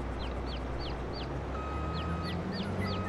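Chickens in Farming Simulator 22 on a farm, a run of repeated short clucks and calls spaced fairly evenly over steady background ambience, moderately close.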